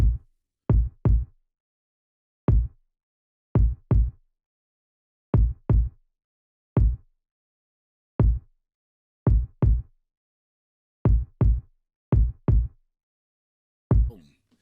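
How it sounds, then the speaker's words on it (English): A punchy, dry kick drum thumps alone in a sparse repeating pattern, single and doubled hits separated by silence. "Simple kick pattern."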